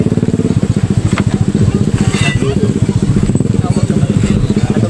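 Yamaha motorcycle with an automatic transmission ridden on a road trip in Surigao del Sur: a loud, steady engine drone with rapid, rhythmic pulsing throughout, close up, with some clatter and possible voice in the background.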